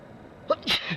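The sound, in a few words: sneeze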